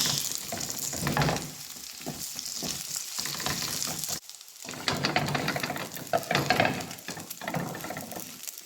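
Dried anchovies (dilis) frying in a little oil in a pan, a steady crackling sizzle with occasional stirring scrapes, close and fairly loud throughout, with a brief dip partway before the frying noise resumes.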